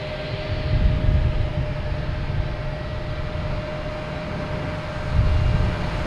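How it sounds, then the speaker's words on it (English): A JetBlue Airbus A220 bound for Atlanta gives a steady jet rumble with a faint sustained whine, swelling slightly at the start and again near the end, with no voices over it. "Now we get JetBlue here, heading to Atlanta. A220."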